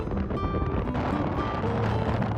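Strong, dusty wind buffets a high clifftop at the Edge of the World near Riyadh, a constant low roaring rumble blowing across the microphone with no voices.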